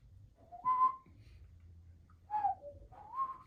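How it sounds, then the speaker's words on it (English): Two short whistled phrases, each rising and falling in pitch, separated by a pause; clear, close and alone against quiet background. "I hate whistling."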